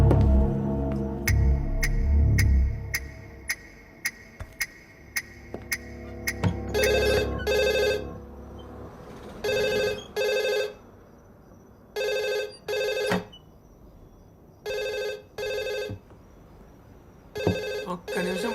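A telephone rings in repeated double bursts in a Telugu crime thriller film scene, loud and close, following a stretch of layered background score with sharp hits.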